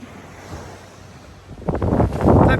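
Sea waves at White Beach on Koh Rong island wash ashore in the low season, a faint breezy hush that swells into louder, close surf breaking over the last second, with wind noise across the microphone.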